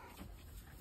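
Indoor dog barking in a home with a litter of young animals nearby, a brief muffled, faint bark against a steady background hum.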